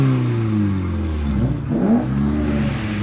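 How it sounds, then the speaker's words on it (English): A BMW E36 revs its engine hard as it pulls out of a car meet, the pitch climbing and dropping through several close, loud blips with no talking. "Oh, the E36 giving some revs."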